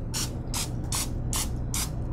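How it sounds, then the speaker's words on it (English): Five short hissing bursts from a can of baking spray, evenly spaced about half a second apart, close up with a low background rumble. "take a little bit more of your baking spray and just spray lightly."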